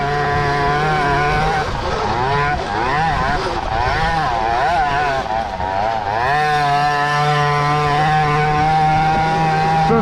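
A carbureted 2-stroke KTM 50 knockoff engine in a half-tracked $300 pocket bike buzzes loud and close, revving and wavering in pitch, dipping briefly near the middle before climbing again to a steady high whine.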